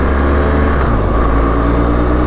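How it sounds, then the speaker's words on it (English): A motorcycle with a loud aftermarket exhaust system rumbles steadily and loudly up close, a deep throbbing engine drone with a slight rise in pitch, heard alone without voices. "had to show off his loud exhaust system"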